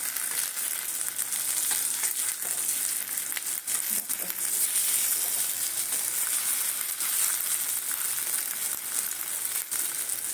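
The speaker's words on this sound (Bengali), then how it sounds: "দেখো বড়াগুলো আমার ভাজা হয়ে গেছে।" Continuous bright sizzling of gime-greens leaf fritters deep-frying in hot oil, a dense steady hiss with occasional crackles and pops, no voices.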